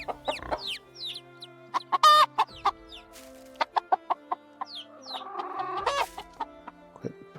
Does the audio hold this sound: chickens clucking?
yes